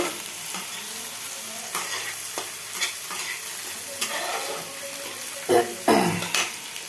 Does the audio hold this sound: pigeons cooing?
no